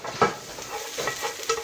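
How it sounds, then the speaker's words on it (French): Onions fry in sesame oil in a hot pan, a soft steady sizzle broken by a few light stirring scrapes, close and fairly quiet, with no talking. "petit peu d'huile de sésame sur la poêle bien chaude. Et maintenant, les oignons."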